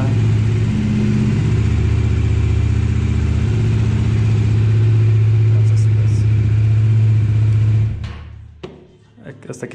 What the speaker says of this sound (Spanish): A la primera prendió la motocicleta.